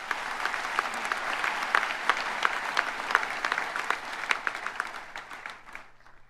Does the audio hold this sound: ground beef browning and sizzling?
no